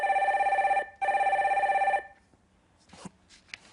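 A telephone rings twice with an incoming call, two loud electronic bell bursts separated by a short gap, followed by faint room noise and a couple of soft clicks as the line is picked up.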